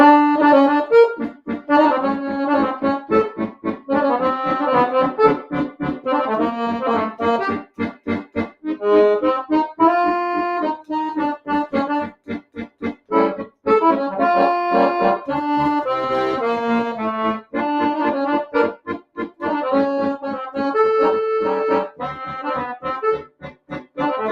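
A bright gypsy jazz melody plucked over rhythmic guitar chording, moderately loud and continuous, with a lively swinging feel and no voices.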